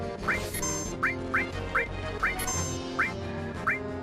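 A giant bird monster on Mt. Nibel in Final Fantasy 7 lets out a string of seven short, rising, quack-like squawks at fairly even intervals over a busy game soundtrack.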